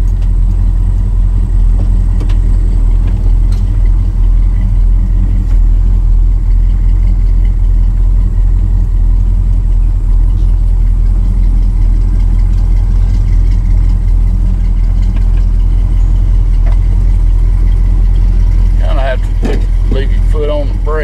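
A car engine idles with a steady, close, low rumble while the car backs up to a trailer for a hitch install, with some clattering toward the end.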